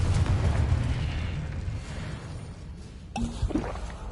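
A Confringo fire spell blasting in Hogwarts Legacy on PS5, a loud rumbling explosion that roars and fades over a few seconds, followed by a sharper burst and crackle.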